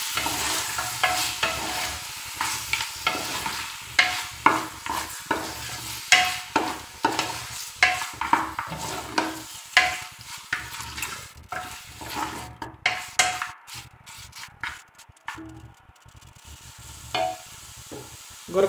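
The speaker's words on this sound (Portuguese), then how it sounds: "E agora, pessoal, a gente vai refogar bem, tá?" Pork ribs and calabresa sausage sautéing in a pot with a steady sizzle, broken by frequent scraping and clacking stirs that come in an irregular rhythm, close and fairly loud with no talking.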